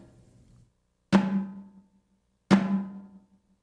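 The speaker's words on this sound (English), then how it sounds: "With the snares off, it'll sound similar to a tom-tom," Two separate strikes on a snare drum with the snares switched off, each a hollow, tom-like ringing tone a little higher in pitch, sounding close and unaccompanied.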